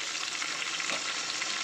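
Potatoes frying in hot oil with a masala of onion, ginger, garlic and dried red chilli paste give a steady, close, even sizzle with light stirring and no pauses.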